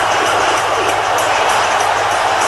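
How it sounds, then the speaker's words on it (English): A wrestling arena crowd in WWE 2K18 roars and cheers steadily at a Raw main event, a dense, loud wash of noise with no break across the whole few seconds. "This crowd is big time behind Taker, but they also love Seth Rollins."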